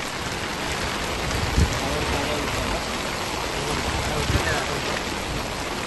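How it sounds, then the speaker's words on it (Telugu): A heavy downpour drums down in Hyderabad, a dense unbroken roar of rain with a couple of soft thuds, fairly close and steady throughout. "హైదరాబాద్ లో కుండపోత వర్షం కురవడంతో"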